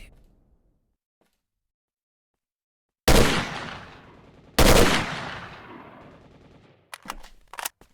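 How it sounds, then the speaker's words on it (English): Gunfire in the video game S.T.A.L.K.E.R.: Shadow of Chernobyl: after three seconds of near silence, two loud, sharp bursts ring out with a short decaying tail, followed by a few faster, weaker shots near the end. "I can hear more gunfire somewhere. Definitely hear gunfire."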